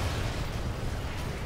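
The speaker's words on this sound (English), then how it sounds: "Oh no, there's explosions everywhere." Explosions in the video game Sniper Elite 4, a continuous heavy rumbling roar of blasts with strong low-end boom, steady and loud throughout the brief moment.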